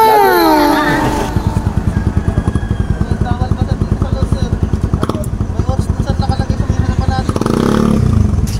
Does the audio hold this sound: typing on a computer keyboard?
no